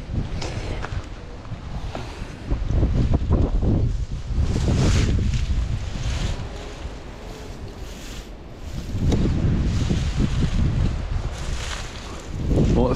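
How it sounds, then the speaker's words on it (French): Strong gusts of wind blow across a river during fly fishing, a loud rumbling buffeting that swells and eases in waves, heavy on the microphone, with no voices. "Il y a beaucoup trop de vent, je peux rien faire"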